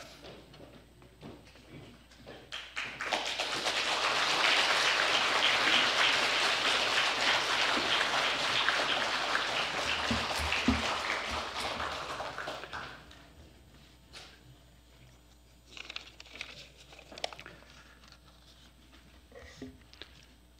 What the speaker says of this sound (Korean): 설교하면서 박수 받는 게 이상합니다.